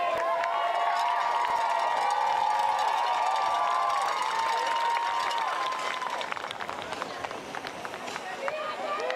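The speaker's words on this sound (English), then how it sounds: "You can hear the cheering from the crowd." A crowd at a women's snowboard contest roars and cheers continuously, with clapping mixed in and an announcer talking over the noise.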